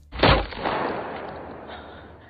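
A single sharp sniper rifle shot rings out in a film scene, close and loud, followed by a long rumbling echo that fades slowly.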